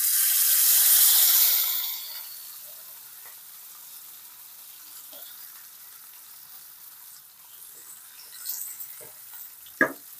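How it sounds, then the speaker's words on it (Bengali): Fish fries in hot oil in a pan over a gas flame for tandoori fish: a loud, crackling sizzle bursts up for about two seconds, then settles into a low, steady hiss with a few scattered pops and one sharp click near the end. "আমাদের তেলটা গরম হয়ে গেছে। এবার আমরা মাছটাকে ভেজে নেব।"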